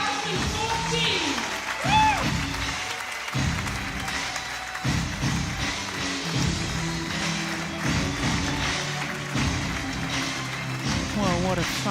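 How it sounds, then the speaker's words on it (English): Audience applause for the Denmark Open 2014 badminton men's doubles medalists, a steady crowd clapping in a large arena that runs beneath continuous announcer and commentator talk throughout. "Ladies and gentlemen, give a big applause to the medalist in the Denmark Open"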